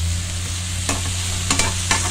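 Vegetables lightly sautéed in a pan over a steady background hum, with a few soft sizzling bursts and stirring scrapes coming in short clusters.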